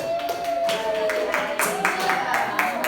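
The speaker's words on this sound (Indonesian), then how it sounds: "tepuk tangan buat Atai." Seventh-grade students in a classroom clap for a classmate, a quick round of scattered hand claps with a voice talking over it.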